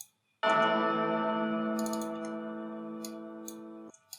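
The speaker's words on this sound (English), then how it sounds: "It can layer with the bells to sound like this." A layered bell and chord-hit sample in a hip hop trap beat, a single bright, rich sustained tone that rings out for about three and a half seconds and then cuts off abruptly, with faint tapping clicks over its tail.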